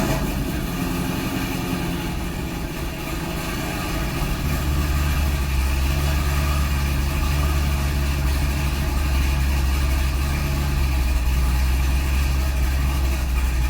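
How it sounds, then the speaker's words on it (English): A C6 Corvette fitted with an aftermarket cam and headers idles after a cold start, a loud, steady, lumpy rumble close by that deepens after a few seconds and holds for the rest of the clip. "Here's a cold start, as you can see by the coolant temperature gauge."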